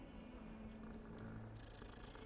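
A cat purrs in Hogwarts Legacy, a soft low rumbling purr that runs steadily beneath a faint game ambience, quiet and continuous.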